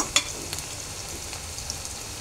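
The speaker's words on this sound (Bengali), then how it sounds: "পেঁয়াজ আর রসুন ভেজে নিচ্ছি।" Chilli, onion and garlic fry in a pan for dried fish bhuna, giving a steady close sizzle with a sharp clink near the start and a few faint utensil taps.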